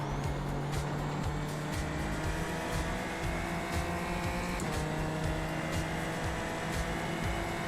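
Simulated racing car engine from a racing simulator game, a continuous high-revving whine with harmonic tones rising and falling through gear changes, steady and close, with no one talking.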